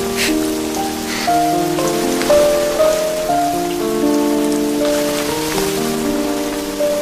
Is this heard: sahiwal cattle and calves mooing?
no